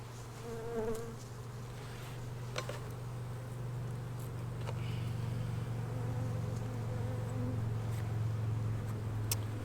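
Honeybees drone steadily inside an opened hive during spring unpacking after winter, a continuous close hum with faint clicks and handling taps on top, no talking.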